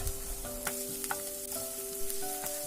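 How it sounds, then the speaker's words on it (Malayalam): Green chilies and chopped onion sautéing in a pan, with a steady close hiss of frying and a few light stirring scrapes, while music plays underneath. "ഇനി ഇതെല്ലാം നമുക്ക് നല്ലപോലെ ഒന്ന് വഴറ്റി കൊടുക്കണം."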